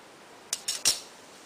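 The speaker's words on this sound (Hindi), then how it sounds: "अब ये बीच वाला सेंटर वाला काट दीजिए इसी शेप में।" Scissors cut out the center of stitched fabric in three quick, close snips after a moment of quiet.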